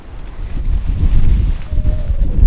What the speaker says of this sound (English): Pretty windy here, so I don't know how this is going to sound.